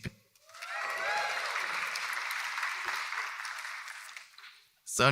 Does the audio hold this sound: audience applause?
yes